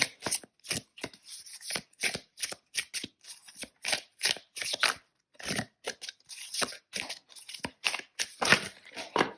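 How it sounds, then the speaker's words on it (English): A tarot deck is shuffled again and again, giving a long run of crisp riffling bursts separated by brief pauses, close and alone with no talk. "this is a lot of shuffling for just a 2-card pull"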